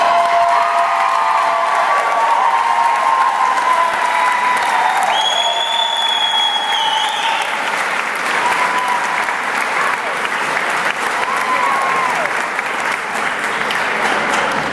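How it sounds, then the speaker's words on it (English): An audience at a black belt workout session breaks into a big round of applause, loud sustained clapping with scattered cheers that carries on for nearly fifteen seconds. "Harris, let's give them a nice big round of applause."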